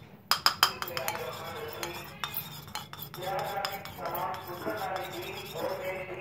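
A spoon stirs an aloe vera face pack in a small bowl, giving sharp metallic clinks at the start and then a steady scraping swirl with lighter taps. It is close and fairly loud.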